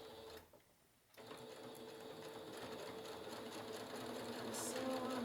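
A sewing machine stitches a fabric project bag for cross-stitch, running in a steady close hum and needle chatter after a brief pause near the start and holding at an even, moderate level to the end.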